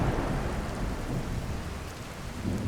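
Night rain and rolling thunder in the modded video game Skyrim SE: a dense, steady downpour with deep low rumbling throughout, loud and close, with no talk.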